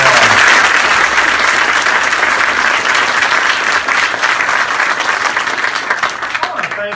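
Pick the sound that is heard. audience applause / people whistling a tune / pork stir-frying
audience applause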